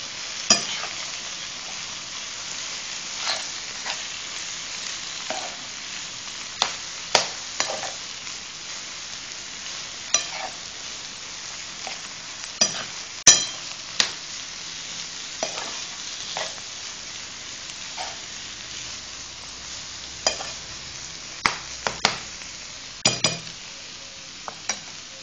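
Eggplant stuffing with egg and garlic frying in a pan, a soft continuous sizzle under repeated scraping and clinking stirring strokes, close and steady throughout.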